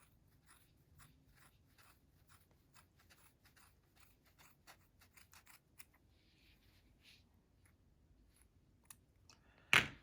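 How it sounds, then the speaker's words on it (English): Scissors snip through crochet yarn loops of a hooded sweater in a quick series of quiet, close clicks and cuts, pausing briefly, then a louder rustle of handling at the end. "You're going to go to the other side and cut the other loops."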